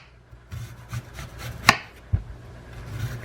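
A knife slices white onions thin on a cutting board with soft, irregular cuts and rubbing. Two sharper taps of the blade stand out, and the whole sequence is fairly close and quiet.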